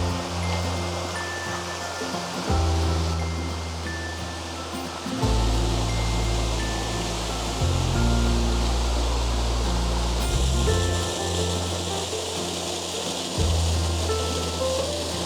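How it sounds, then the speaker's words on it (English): Continuous rushing water from a small waterfall, a steady broad splash close by, with shifting low rumbles as the listener moves. "the waterfall itself isn't too bad. Very, very small"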